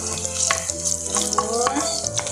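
Garlic sizzles steadily in a pan for a Filipino squash dish cooked with coconut milk and moringa, a close, continuous frying hiss with faint stirring clicks.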